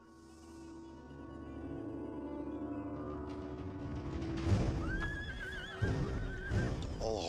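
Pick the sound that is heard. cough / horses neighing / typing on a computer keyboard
horses neighing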